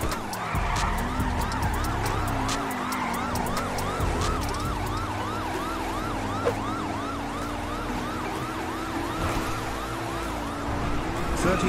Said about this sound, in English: Just watch for locals doing dumb shit with sirens.